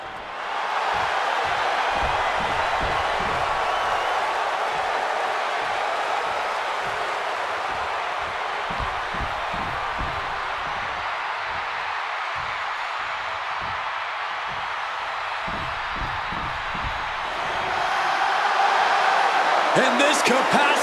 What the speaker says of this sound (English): this capacity crowd just exploded